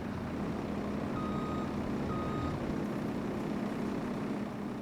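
Reversing beeps from a truck in Farming Simulator 25: two evenly spaced, moderately loud beeps over a constant low engine rumble, with no talking.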